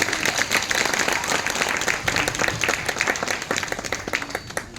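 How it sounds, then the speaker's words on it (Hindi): Audience applause at a political meeting for an assembly candidate, a dense, steady wash of many hands clapping close by, with a faint voice surfacing briefly. "बाकी लोगों को भी गुजारिश करता हूं कि एक बार और ताली बजाओ"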